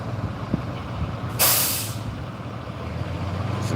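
A tow truck at a motor vehicle accident scene lets off one loud hiss of its air brakes that fades over about half a second. A low engine rumble runs steadily underneath.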